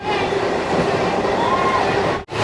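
A train passing at Mayapur, a continuous loud rumble of wheels on rails with a faint high squeal, close by and steady before cutting off abruptly, with voices faintly mixed in.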